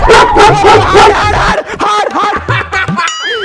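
A dog barks and yips repeatedly in a village setting, close and loud, with whimpering, uneven bursts and a brief gap in the middle; a voice is faintly present alongside.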